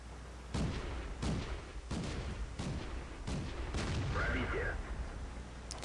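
SU-85B tank destroyer cannon shots in World of Tanks, five or six heavy booms at roughly regular intervals over a steady loud engine rumble and battle noise.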